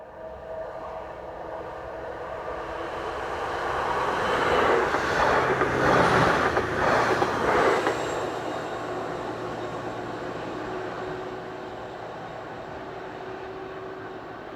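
A Class 755 passenger unit passes on the Ipswich to Bury St. Edmunds line near Elmswell, working from Ipswich to Cambridge; a distant rumble swells to a loud broad roar around the middle, then fades away slowly.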